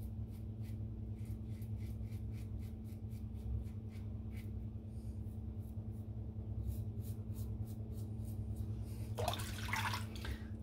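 Water drips and trickles in a bathroom sink while a shaving razor is rinsed. A series of small, quiet, evenly spaced drips sits over a steady low hum and ends in a brief splash.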